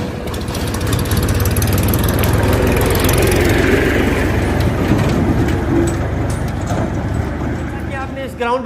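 A tractor with a trolley and a front loader runs its engine close by, a loud, steady diesel drone that holds throughout with no pauses.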